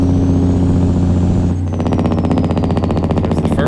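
A Cummins N14 Jake brake in a truck game mod kicks in after a steady engine drone, changing to a loud, fast, rhythmic staccato rattle that carries on to the end.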